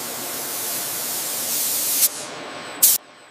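A spray gun applies coating to a B-2 bomber wing section in a steady, loud hiss, with two short sharper bursts near the end before it stops.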